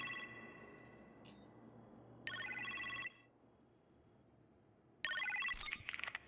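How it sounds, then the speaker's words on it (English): Telephone ringing in a kitchen in Marvel's Iron Man VR: three separate bursts of a bright electronic ring, fairly loud and close, with a low steady hum between them and no talking. "You appear to have a phone call in the kitchen,"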